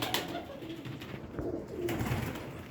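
A blue Kamagar pigeon coos softly and close, a few low throaty calls over quiet background noise.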